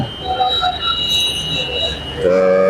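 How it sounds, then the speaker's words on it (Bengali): A mail train bound for Chittagong rolls past close by in the morning, its wheels squealing in long high tones over a steady rumble, with brief voices mixed in. "সম্ভবত এটা মেল ট্রেন"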